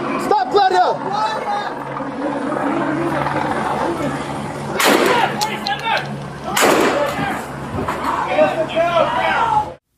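Two sharp, loud bangs like gunshots ring out a couple of seconds apart, amid shouting voices and a steady rumbling drone.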